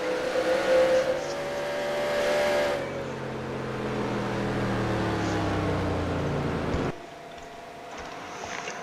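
NASCAR race cars circle Talladega in the NASCAR Racing 2003 video game, engines droning and whining at high pitch, a close car sweeping past then fading as the pack roars on, with a sudden drop near the end.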